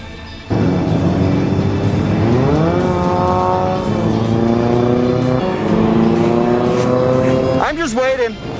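Race car engines roar loudly and continuously in a video game enduro race, revs rising and holding in sustained tones, with a sharp tire squeal near the end.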